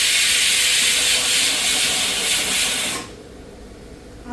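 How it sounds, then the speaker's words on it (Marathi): A pressure cooker cooking potatoes lets off a loud, steady hissing whistle of steam for about three seconds, then cuts off sharply to a quiet background. "माझ्या कुकरला थोडा टाइम लागतो त्यामुळे मी थोडा जास्त शिट्ट्या घेते."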